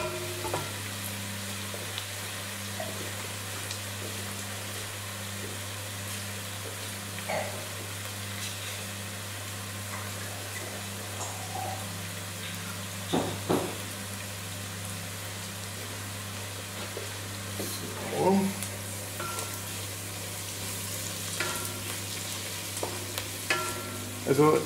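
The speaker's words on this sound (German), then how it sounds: "So, das lassen wir jetzt schön anspitzen, dass das Ganze etwas Farbe bekommt und lassen die Zwiebeln karamellisieren." Onions frying and caramelizing in a pan in a Viennese cooking studio, a steady soft sizzle with occasional stirring clinks and scrapes, continuous over a low background hum.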